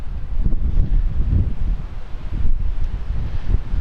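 Strong wind, gusting around 40 mph outdoors, roars continuously with heavy low buffeting against the microphone and no speech.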